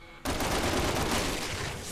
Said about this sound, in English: I just hear like 50 gunshots in the room